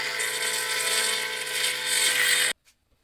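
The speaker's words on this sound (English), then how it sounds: "and then jigsaw it out." Jigsaw cutting an opening in a powerbox enclosure, a dense buzzing, rasping saw sound held steady at close range for about two and a half seconds before stopping abruptly into near silence.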